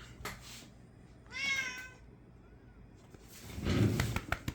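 A pet cat gives a clear rising-and-falling meow in the middle, close to the microphone, with a voice talking briefly before and after it.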